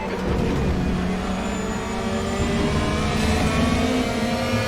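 The engine of a 2016 Mercedes-AMG C 63 DTM race car in the RaceRoom racing game roars at high revs, loud and steady throughout with no pauses.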